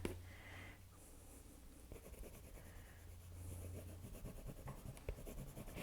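Crayon strokes drawing a bear on brown paper, a faint, close, dry scratching that comes in a series of rubbing marks, some longer and broader than others.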